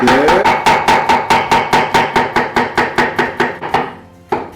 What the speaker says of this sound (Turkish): Dolayısıyla şu şekilde jülyen kesiyorum. Gel gelelim biberi de aynı şekilde